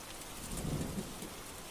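Steady rain pours down with a deep rumble of thunder rolling through the middle, a continuous stormy wash with no voices.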